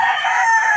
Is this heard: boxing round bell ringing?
no